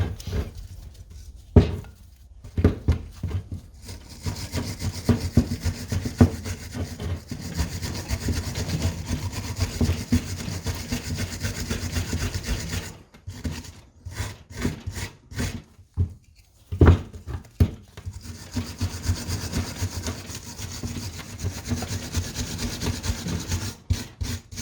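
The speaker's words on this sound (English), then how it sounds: "we can get a wire brush on this and clean up" Wire brush scrubbing the brake caliper surfaces on the front brakes of a Citroen Berlingo Multispace, a steady rasping rub that runs near and continuous with a few brief pauses and no talking.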